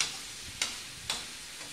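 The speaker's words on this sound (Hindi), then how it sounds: "अब इसको हमें ब्राउन होने देना है थोड़ा, प्याज को।" Onions frying and browning in a pan give a steady, faint broadband sizzle, broken by two short louder hissing bursts as they are stirred.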